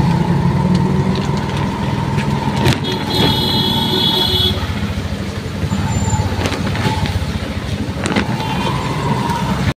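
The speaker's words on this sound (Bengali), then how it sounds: "আমরা এখন অটোতে আছি, আমরা যাচ্ছি। আর বাইরে প্রচণ্ড পরিমাণে বৃষ্টিও পড়ছে।" An auto rickshaw rides through heavy rain, its engine humming steadily inside the cabin with a constant wash of rain noise and occasional clunks throughout.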